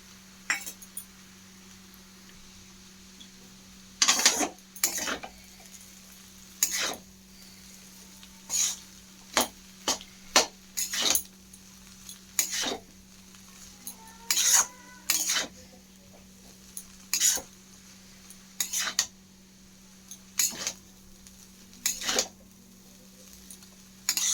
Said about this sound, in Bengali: এইভাবে কিন্তু ভালো করে মিশিয়ে নিলাম সব চাউমিনগুলো